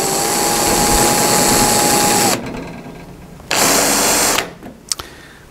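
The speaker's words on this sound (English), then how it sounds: "So these spot welds we're going to drill out now." A power drill whines steadily as it bores out spot welds on a rusty old car body, running in two long bursts with a pause and short stops between.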